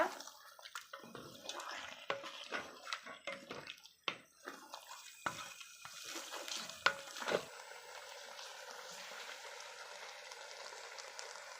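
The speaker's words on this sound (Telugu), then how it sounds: "గోంగూరకు సరిపడా సాల్ట్ వేసేసుకొని ఈ చికెన్లో వేసేసుకొని మగ్గనిద్దాము" Chicken with gongura leaves and salt stirring and sizzling in a pan, with scattered scraping and clattering strokes over the first seven seconds before settling into a steady, fainter sizzle with no talking.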